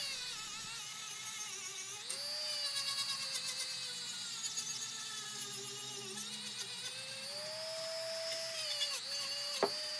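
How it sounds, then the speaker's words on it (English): A Dremel rotary tool cleaning up a copper feather incense burner gives a steady high whine at close range, its pitch dipping and rising as the load changes, with brief sharp scrapes. "here we are cleaning up with a Dremel"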